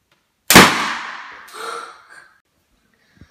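A single balloon bursts on one thumbtack with a sharp, loud bang, followed by a fading ring and a short rustling tail and a faint tap at the end.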